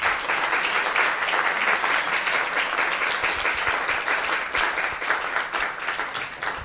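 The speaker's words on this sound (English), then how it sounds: "So let's give him a big round of applause." An audience applauds at a Vyasa-puja celebration, a dense, steady clapping that continues throughout without letting up.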